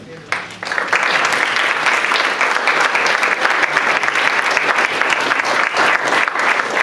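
An audience breaks into sustained applause welcoming two guests at an evening talk, loud, dense clapping rising suddenly and continuing steadily throughout.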